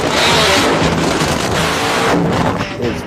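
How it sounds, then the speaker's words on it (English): A nitro funny car engine revs at close range, a deafening, raspy roar that surges and holds for a few seconds. "Nitro burning funny car is loud."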